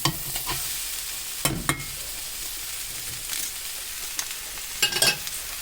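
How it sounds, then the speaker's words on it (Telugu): Ingredients for Italian pasta fry and sizzle in a pan under a steady hiss, punctuated by several distinct scraping stirs of a spoon against the pan. "చూడండి, వేగుతున్నాయి, ఇంకా కాస్త వేగాలి."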